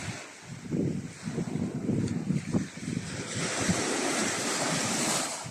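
Waves wash in and break on the shore, a continuous rolling surf with wind rumbling across the microphone.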